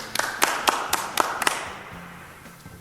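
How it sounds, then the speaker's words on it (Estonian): At a school prize draw, a small group claps in about eight crisp, fairly close claps over a second and a half, then the sound fades into quiet room noise. "Aplaus."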